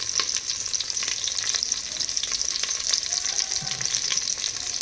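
Stuffed brinjal fries in a pan with a constant close sizzle, while a spoon stirs through it with occasional soft scraping taps and no talking.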